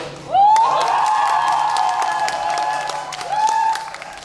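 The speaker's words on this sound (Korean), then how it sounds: "잠깐 박수 소리 들어볼까?" A crowd at a town hall meeting erupts into loud, high-pitched cheering and clapping, sustained for a few seconds, dips briefly, then swells again before fading.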